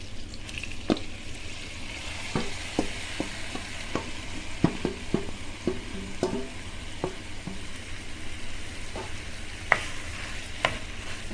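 Carrots being stirred and fried in a pan for carrot halwa: a steady close sizzle runs throughout, broken by sharp scraping clicks of a spoon against the pan every second or so, with no one talking.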